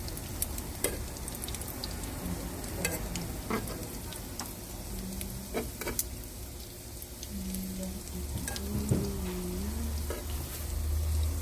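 An okonomiyaki pancake with seafood topping fries on a hot surface, giving a soft, continuous sizzle and crackle with scattered small pops and taps throughout.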